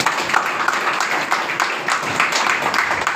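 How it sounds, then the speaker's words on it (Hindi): An audience claps together in a thick, steady burst of applause that lasts a few seconds, close and fairly loud, with no distinct voices on top. "इसलिए पुनः अपने लिए एक जोरदार ताली"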